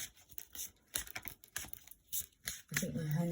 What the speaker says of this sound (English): I used to struggle to shuffle these cards like this